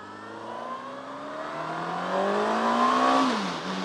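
A Honda 919 motorcycle engine revs up alone in one rising pull, its pitch climbing steadily and loud before easing off at the end.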